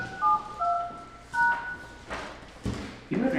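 Telephone keypad DTMF tones entering a conference ID on a business conferencing line sound as a quick series of short, clear beeps, followed by a few dull knocks and handling thuds.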